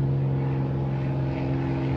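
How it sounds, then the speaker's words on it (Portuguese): A crop-spraying airplane used over banana plantations drones steadily overhead, a loud continuous propeller engine hum with a strong low tone, filling the short stretch alone. "Um avião, pulverizador de banana, olha o barulho."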